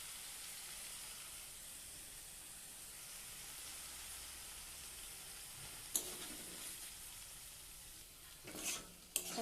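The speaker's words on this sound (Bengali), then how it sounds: "এখন লাউ পাতা বাটাটা দিয়ে দিচ্ছি, দিয়ে দিলাম। এখন নেড়ে ছেড়ে" Spices fried together with ground bottle gourd leaf paste hiss softly and steadily in a pan, with a few sharper stirring scrapes near the end, no voices.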